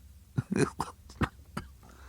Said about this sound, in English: Suddenly the little man began to cough.